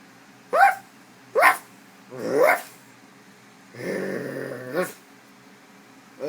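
A person imitating a dog, giving several short bark-like yelps one after another, then a longer growling bark, close and fairly loud with pauses in between.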